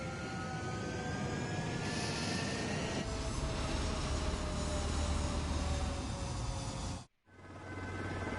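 Jet fighters taking off in the combat flight game Ace Combat 7, a loud, sustained engine roar with a rising whine that cuts off abruptly, then resumes, with no talk.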